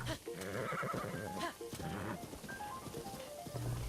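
A horse in the video game Breath of the Wild lets out a few whinnies and neighs, with hoof clops underneath and some faint talk in the background.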